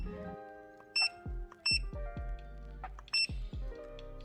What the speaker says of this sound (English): if we scroll around, it does beep